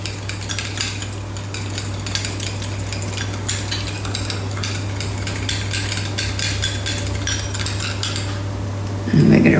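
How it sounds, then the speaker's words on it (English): Ingredients stirred in a bowl for tomato burrata pasta, repeated metallic scraping and clinking of a utensil at a steady pace, close, over a constant low motor hum, with a thump at the end. "Right, I'm going to give that a stir up."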